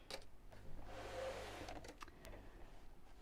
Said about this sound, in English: And we'll sew straight across.